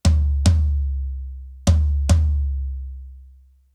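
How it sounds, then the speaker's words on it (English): A floor tom with a single mini muff clipped onto the rim, hit four times in two close pairs, each stroke giving a crisp attack and a long, booming low sustain. "And they just clip onto the rim of your drum, and one of them sounds like this."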